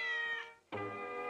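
A cat gives two meows in quick succession, the first higher and drawn out, the second lower and fuller after a brief pause, close and clear.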